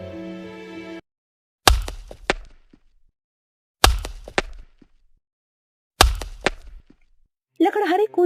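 Woodcutter's axe striking wood in a cartoon forest, three sharp, loud chops spaced about two seconds apart, each followed by a short rattling decay, with brief music at the start and end.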